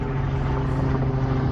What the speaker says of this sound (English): we got a helicopter going over our heads